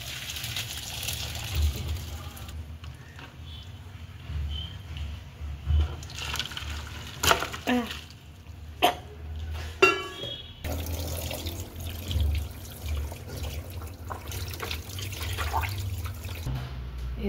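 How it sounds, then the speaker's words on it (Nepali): Cold tap water runs steadily over fried fish in a sink, a continuous splashing flow with a few sharp clinks and knocks partway through, close and moderately loud. "अब यसरी म चिसो पानीमा यसलाई फेरि एकचोटि"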